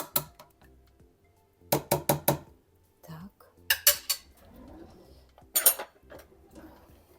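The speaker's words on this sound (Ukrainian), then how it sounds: "ложка борошна і будемо взбивати" A whisk mixing flour clatters against a metal pot in quick bursts of rapid clinking, separated by brief pauses.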